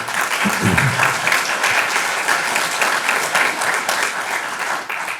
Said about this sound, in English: So I'd first like to give them a round of applause for their support.